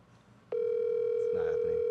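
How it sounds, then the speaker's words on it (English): Outgoing telephone call tone that starts abruptly as a steady, loud electronic hum and holds without a break, with a voice briefly audible beneath it. "It's ringing."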